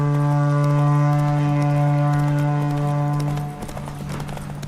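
Roach, a horse in The Witcher 3: Wild Hunt, gallops with steady clip-clopping hooves alongside a loud sustained droning tone that cuts off near the end, leaving rougher hoofbeats and scuffing.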